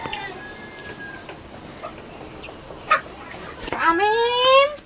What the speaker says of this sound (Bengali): আমার বোনের তো মুরগির অভাব নেই